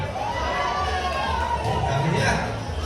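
A big rally crowd of solo parents roars and shouts together, a dense wash of voices and cheering, loud and steady, with one group's cries swelling near the end and people talking in the foreground.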